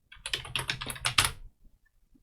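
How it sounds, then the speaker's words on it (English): A quick burst of keystrokes rattles on a computer keyboard for about a second as a Sparky Linux installer command is typed, then the keys fall silent. "You had to type sudo Sparky Installer."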